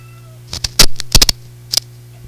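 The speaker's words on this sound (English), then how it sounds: "I guess you can hear my cat meowing." A cat meows loudly and close in a quick run of short, sharp cries, several clustered calls over a faint steady hum from a Hammarlund SP-600 communications receiver.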